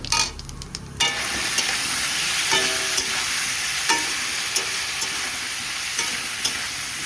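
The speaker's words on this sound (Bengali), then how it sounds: "চলো আদা জিরে ফোড়ন দিই, ওটা দিয়ে দিলাম" Cumin and ginger are tempered in hot oil in a kadai, giving a loud, steady sizzle and crackle with occasional stirring scrapes and pops. It begins after a brief softer moment, then continues unbroken with no talk.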